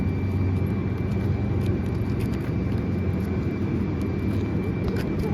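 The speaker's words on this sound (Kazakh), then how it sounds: "Самолетқа мінейік деп жатырмыз." A steady, loud airplane engine drones without pause, heard from aboard a passenger flight bound for Astana, with no talk over the hum.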